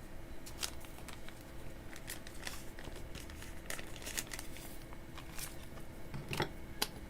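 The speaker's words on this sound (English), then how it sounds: "Since when do scissors battle to cut plastic?" Scissors snip and crinkle through stiff plastic packaging, giving a steady run of close crackling and rustling with a few sharper cuts toward the end, and no talk.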